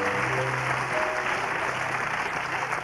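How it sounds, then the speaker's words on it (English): Studio audience applause on a 1990 comedy tour show, a dense, loud, continuous wash of clapping with no talk over it. "could we give them some applause to send them off with?"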